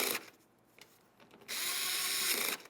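A power tool tightens a bolt during a door lock actuator replacement on a 2006-2010 Ford Explorer, with short ratcheting bursts and then a sustained whirring drive that stops abruptly.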